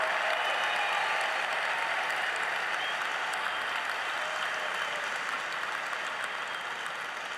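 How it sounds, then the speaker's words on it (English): A huge stadium crowd at the Invictus Games closing ceremony in Düsseldorf roars with sustained applause, a thick, continuous wash of clapping and cheering that stays steady and slowly eases. "So give them a round of applause, and to yourselves as well."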